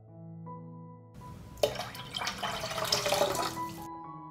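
200 milliliters of 9% vinegar poured into salted water in a pot for a pickling dressing, a short, soft splashing pour that starts suddenly and fades out after about two seconds.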